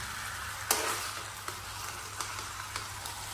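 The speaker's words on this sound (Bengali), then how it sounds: "ভালো করে মশলাটা এবার মিশিয়ে দিয়ে দেখো সাইড থেকে আস্তে করে" Shahi garam masala is stirred into ghee-fried onions for chicken biryani in a pot, a soft continuous sizzle broken by several sharp spoon scrapes and clicks against the side, no one speaking.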